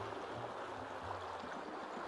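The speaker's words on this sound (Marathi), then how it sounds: "ऐकत असाल आपण, कारण ते वाहताना पाणी कमी आहे आणि वाहताना आपट्टी आहे" Shallow stream water babbles over stones in a steady, faint gurgling rush, continuous and soft without any voices.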